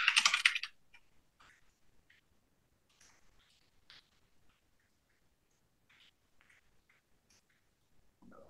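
Typing a new password on a computer keyboard, a faint scatter of soft individual key taps spread across several seconds after a brief louder burst at the start.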